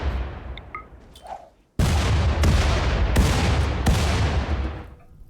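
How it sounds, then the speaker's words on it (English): Bombing explosions in the video game RimWorld: after a faint lead-in, a loud, sustained roar of blasts erupts with several sharp repeated impacts, rumbling continuously for a few seconds before cutting off. "So I'm just going to, like, bomb it."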